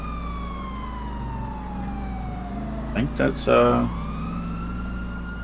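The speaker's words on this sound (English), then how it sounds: "You hear that siren" A police car siren wails in a roleplay video game, heard faintly in the distance and sweeping slowly in pitch over a low engine hum, with a brief burst of talking midway.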